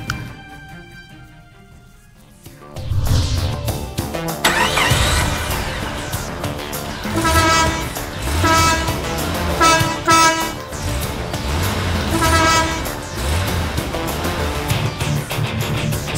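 Telolet bus horns and engines at a race, quiet at first, then loud melodic horn toots with steady engine roar from about three seconds on, repeating in bursts close by.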